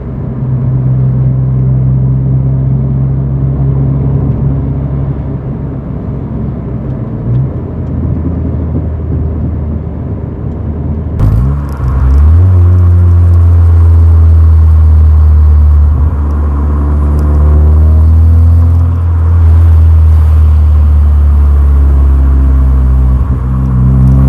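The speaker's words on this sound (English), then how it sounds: "I can hear the exhaust burbling along." Low, rumbling exhaust burble from a Rover Streetwise cruising along, steady and droning, with a shift to a deeper, rising engine tone partway through.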